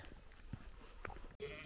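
Ewes bleat in the countryside around Fontvieille, a few short, distant calls spread over a faint outdoor background, followed by a brief dropout; no one speaks.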